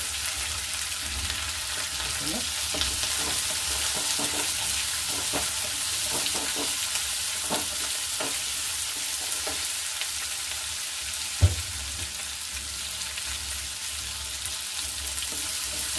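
Green chillies and onion fry in hot oil for mango chitranna, giving a steady close sizzle throughout with occasional stirring scrapes and one sharp clink near the end.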